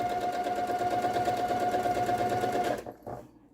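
A sewing machine stitches a quilt seam for a labyrinth quilt, running at a steady, fast whir for close to three seconds before it stops abruptly. A faint clunk follows, and the machine then falls quiet.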